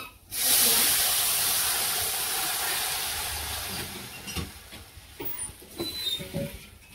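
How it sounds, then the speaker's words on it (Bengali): Onions frying in hot oil for a meat curry in a village kitchen, a loud sudden sizzle that bursts in and then settles into a steady hiss with small crackles and pops. "আমি পেঁয়াজটা একটু ভেজে নিলাম, তো এটার মধ্যে এখন তরকারি দিয়ে দিব"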